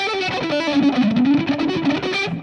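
Electric guitar played through a Boss Blues Driver overdrive pedal, a busy run of picked distorted notes with a slight warbly modulation, loud and close with no talking.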